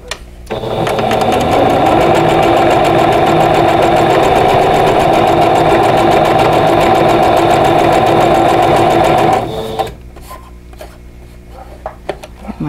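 Close and loud, a sewing machine stitches a quilt block in one continuous run of about nine seconds, then stops, leaving quiet handling sounds.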